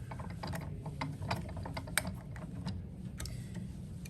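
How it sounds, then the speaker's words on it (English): Set screws on the turntable mounts of a Gamma X-Stringer X-2 racket stringing machine being tightened, giving a quick series of close, dry ratcheting clicks and ticks, with no talking. "to tighten them down, you will just use these set screws here on the side"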